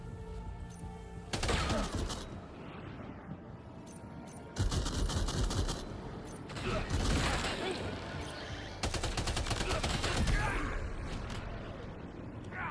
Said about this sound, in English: When you hit them with rubber bullets,